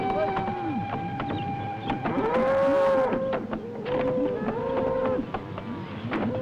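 Cattle low over and over in a rail car as a trainload of about 500 head travels to market, with deep moos overlapping throughout against steady background noise.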